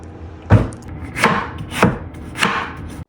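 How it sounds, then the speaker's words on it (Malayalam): A knife chops tomatoes on a cutting board while chicken curry is being prepared. Four separate, fairly loud, close-up chops land at uneven intervals, each a sharp thud with a short wet crunch, and no one speaks. "Let's chop തക്കാളീസ്."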